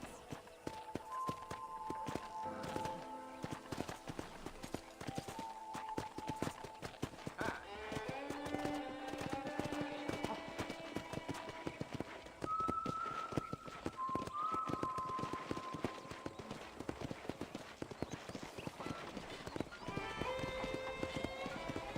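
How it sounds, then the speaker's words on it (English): Steady clip-clop of horse hooves at a walking pace on a ranch in Red Dead Redemption, with synthetic game music tones playing over it throughout. "let's see if you can still ride a horse."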